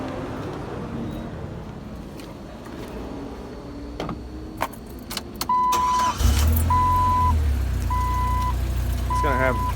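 A Jeep TJ engine with a freshly replaced timing chain cranks and fires up partway through, then idles loudly, amid garage background noise and intermittent repeated electronic beeps.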